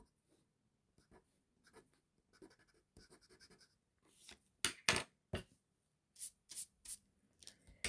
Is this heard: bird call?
no